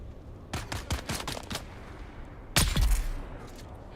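Rapid bursts of gunfire crack in Dune: Awakening, a quick volley of about six shots followed by a heavier, louder blast with a booming tail.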